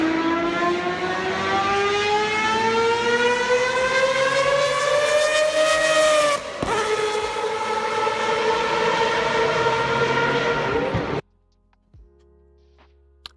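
A car engine revs hard and loud for about eleven seconds, pitch climbing steadily, dipping briefly mid-way, then cutting off abruptly into near silence.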